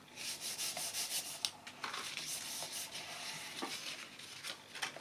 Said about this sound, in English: Just turn it over like this. Fold this flap over.